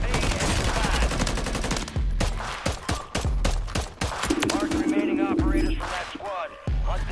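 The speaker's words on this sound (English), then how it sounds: "We got one shooting at us." Enemy gunfire in Call of Duty Warzone 2.0, rapid automatic bursts and scattered shots, loud and fairly close, continuing intermittently alongside a sustained hum with voices talking over it.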